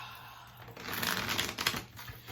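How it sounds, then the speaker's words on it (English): Tarot cards are shuffled by hand in a quick riffling burst of papery flutters and soft taps, close and moderately quiet. "I'm trying to shuffle and it keeps ending out on top"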